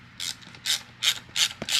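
A ratchet tightens a bolt and spacer on a racing seat bracket, giving five quick, close bursts of clicking strokes in a steady rhythm.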